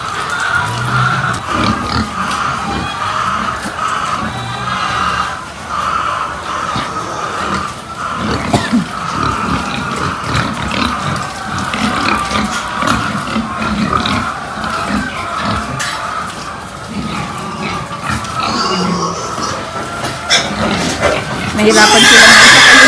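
A pig on a small backyard farm grunts and oinks repeatedly throughout, mixed with ongoing talk from nearby people and some background farm noise.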